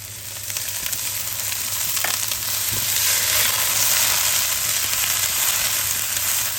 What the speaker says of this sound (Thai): ใส่น้ำลงไปสักเล็กน้อยค่ะ